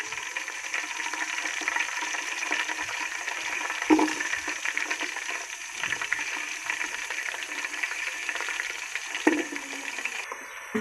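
Potato pieces fry gently in cooking oil in a pot for a Hindi-style mixed vegetable dish. The steady, soft sizzling hiss runs throughout, with a couple of brief clanks of stirring.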